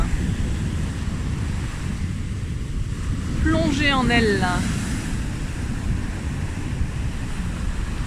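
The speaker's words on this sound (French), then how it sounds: "Les vagues chantent et s'expriment." Steady ocean surf washes beneath a soft spoken voice during a full-moon meditation, a continuous broad rush of waves that holds at an even loudness throughout.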